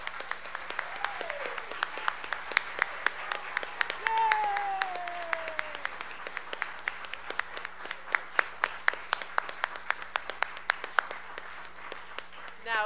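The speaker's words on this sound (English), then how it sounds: "deserve a big round of applause." Scattered audience clapping after a school children's Christmas performance, individual claps sparse and irregular rather than a full ovation, with speech and a brief voice running through the room and a steady low hum underneath.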